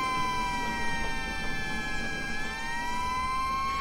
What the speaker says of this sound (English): Sandy watched as the big red fire engine sped away into the distance